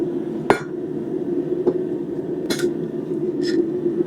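A blacksmith's hammer strikes a metal spoon on a swage block. Four sharp ringing clinks come at roughly one-second intervals over a low steady hum, with no voices.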